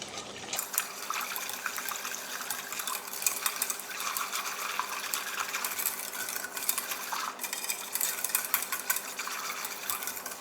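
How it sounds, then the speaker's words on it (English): Cold vanilla custard mixture of sugar and liquid is whisked in a bowl, giving a steady, continuous swishing and rattling that stays close and even throughout with no voices. "All right, so we just give this a whisk."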